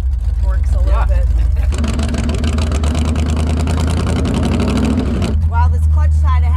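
A Hemi-powered 1934 Ford Coupe hot rod engine revs up loud and close, a steady harsh roar that holds for a few seconds before dropping back to a rumbling idle, with voices talking before and after.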